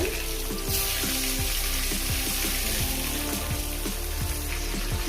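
Potato pieces fry with turmeric in hot oil as part of a chicken curry, giving a steady, close sizzle that runs the whole time with a low rumble underneath and no voices.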